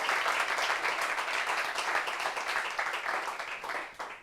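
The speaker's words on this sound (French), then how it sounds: "Applaudissements pour lui, s'il vous plaît." An audience breaks into sustained, dense applause for a guest from Cocody, steady and loud throughout before tapering slightly at the end.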